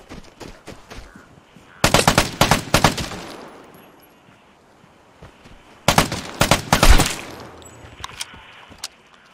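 In the Vigor video game, rapid gunfire hits a fence that blocks the shots. Two loud, close bursts of automatic fire rattle in quick succession, separated by a few seconds, with scattered fainter shots around them.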